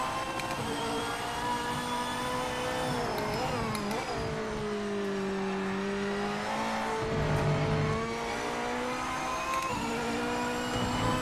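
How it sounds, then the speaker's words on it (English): Engine of a GT3 race car in the Project Motor Racing video game, steady droning note that rises and falls with throttle and gear changes, loud and continuous throughout with no talking. "This car actually sounds very nice."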